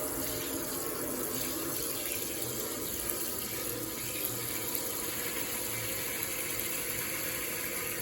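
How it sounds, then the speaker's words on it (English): Water from a kitchen sink sprayer runs steadily into a basin of dishes and soap to stir up bubbles, a continuous close hiss and splash with no talking. "this thing sprays out to get the bubbles activated"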